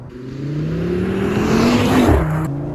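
Audi RS3 engine pulling hard through corners, a loud steady drone rising in pitch under load, then easing off near the end; no talk.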